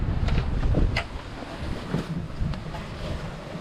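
Mixed, confused ocean waves wash against a small sailboat on a solo Atlantic crossing, heard as a rushing, uneven surge with heavy wind buffeting the microphone, louder at first and then easing.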